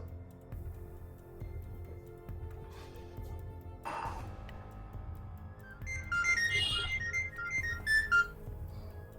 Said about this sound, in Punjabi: ਮਨਮੀਤ ਕਦੋਂ ਦੀ ਸੁਣਨ ਨਹੀਂ ਆ ਤੇਰੇ ਫੋਨ ਦੀ ਰਿੰਗ ਹੋਈ ਜਾਂਦੀ ਤੇ ਤੂੰ ਫੋਨ ਚੁੱਕਦੀ ਨਹੀਂ ਪਈ ਹੈਗੀ